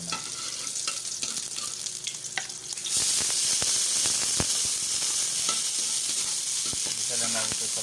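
Garlic sautéing in a pan before broccoli goes in: a quiet start with light stirring clicks, then a sudden loud, steady sizzle from about three seconds on, with occasional spatula scrapes against the pan.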